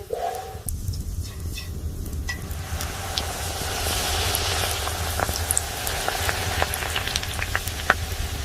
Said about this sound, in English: Soon, they fry delicious puris in hot oil, crispy, golden,